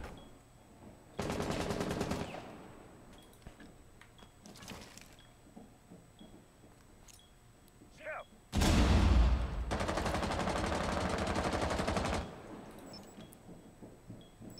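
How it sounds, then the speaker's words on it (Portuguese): Two long bursts of rapid automatic gunfire in the video game Rainbow Six Siege, coming from the ceiling, the second louder and preceded by a heavy boom, with a short burst between and quiet pauses. "Tiro veio do teto."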